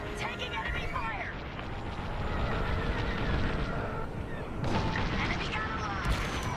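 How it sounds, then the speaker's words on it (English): Enemy blaster fire striking a starfighter in Star Wars: Squadrons, rumbling impacts and crackling bursts mixed with engine noise and radio chatter voices over the top. "Taking enemy fire."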